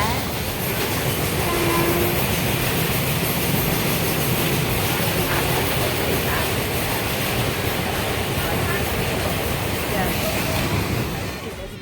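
Steady loud rumble of a passenger train rolling along the rails at night, heard from inside a carriage, with continuous broadband roar and faint rhythmic clatter throughout.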